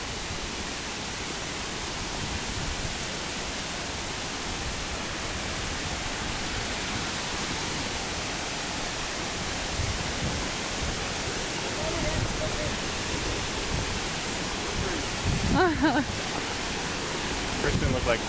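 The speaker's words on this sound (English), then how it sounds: "Another perk to the rainy season, obviously, is the waterfalls are at the top" A waterfall in Jatiluwih, Bali, at full rainy-season flow gives a steady, dense roar that fills the whole clip and swells slightly louder toward the end.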